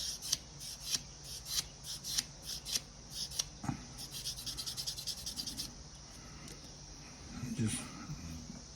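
Hand sanding with 220 grit sandpaper gives soft, rhythmic rasping strokes close by, at first in short separate passes and then in a quicker continuous scrubbing, with faint background noise.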